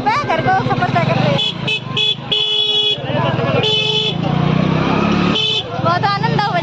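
Motorcycle ride home through a busy market town, engine droning under repeated car and bike horn honks in short bursts, with people talking over the traffic noise.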